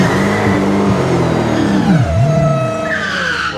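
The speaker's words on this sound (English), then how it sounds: "gonna do the burnout." A Dodge Demon performing a tire-warming burnout roars loud and close, its engine revving with a dipping then rising pitch over screeching, squealing tires.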